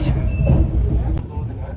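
A low, continuous rumble of a train rolling on rails from Cusco, Peru toward Machu Picchu, heavy and close, with a brief metallic click near the middle and a faint voice underneath.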